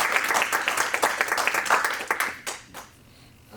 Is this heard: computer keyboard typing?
no